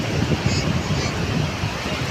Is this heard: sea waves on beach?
yes